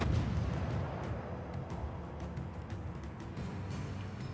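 Warship Smolensk's blind artillery fire in a naval battle game: a dense, rumbling wash of distant gunfire and low booms with faint crackles, continuous and muffled throughout.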